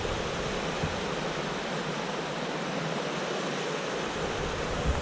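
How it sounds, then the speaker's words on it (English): Water on a hiking trail rushes in a broad, constant hiss like a stream or small falls, steady and fairly close with no voices. "So here's just a shot of the water."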